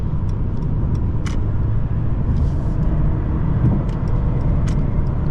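A 2019 Mercedes-Benz CLS450 4MATIC hybrid pulls away under light throttle, giving a steady, loud low engine and road rumble from inside the cabin with brief higher whooshes and no speech.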